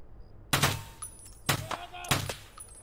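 Three loud gunshot bursts ring out in a video game raid on the Reserve map, about a second apart, each with a sharp crack and a short echoing tail.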